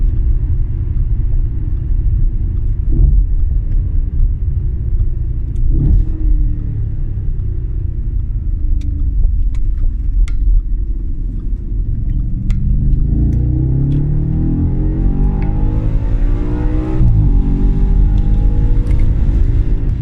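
Audi RS4 with a 331 kW engine and quattro drive, revving hard toward redline while driving; a loud, steady low rumble builds and climbs in pitch near the end, with no talk over it.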